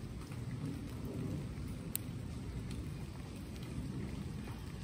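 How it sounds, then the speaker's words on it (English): Steady rain falls outdoors as a dense, even hiss of drops, with a sharp tap or two standing out, and no one speaking. "And yes, we're getting rained on."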